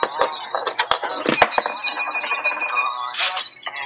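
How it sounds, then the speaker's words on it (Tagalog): Peso coins dropping into the coin slot of a wifi vending machine, a quick series of sharp metallic clinks and rattles followed by a ringing electronic tone, close and loud. "hulog ako ng 20 peso coin. Ayan, so kita nyo tinanggap na ng coin slot"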